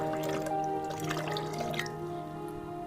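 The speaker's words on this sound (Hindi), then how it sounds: "सबसे पहले हम इसमें पानी ऐड करेंगे ब्लेंडर में" Water is poured into a blender jar to make plum juice, a brief liquid trickle and splash under steady background music tones.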